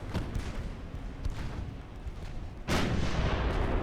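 Battleship 12-inch naval guns fire in the 1895 Russia versus Britain naval battle game Ultimate Admiral Dreadnoughts, a deep rumbling boom over continuous low roar, with a second heavy blast near the end.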